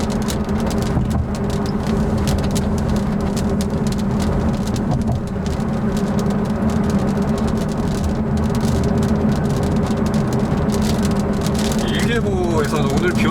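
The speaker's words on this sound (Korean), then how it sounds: "지금 하늘에 그닥 먹구름도 안 끼어 있는데 빗방울이 되게 굵어요 지금" Heavy, fat raindrops fall steadily from a mostly clear sky, a dense continuous patter close by with traffic rumbling underneath throughout.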